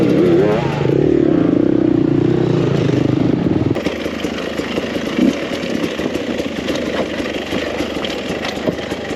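A 2021 Beta 300RR dirt bike engine running steadily while being ridden, loud and close. The tone shifts partway through, with no talking over it.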